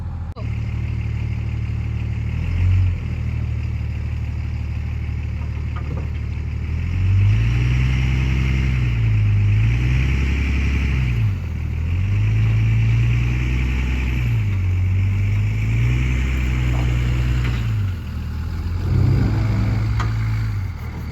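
A 1968 Ford F250 truck engine runs loud and close, idling with a rough low rumble and rising in several repeated revs that swell and fall back.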